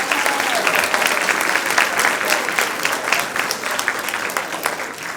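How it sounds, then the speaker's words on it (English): A crowd applauds cadets at a high school cadet leadership awards ceremony, producing a loud, sustained wash of clapping that holds steady throughout with little variation. "Let's give all these deserving cadets one more round of applause."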